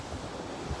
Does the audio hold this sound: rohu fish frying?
no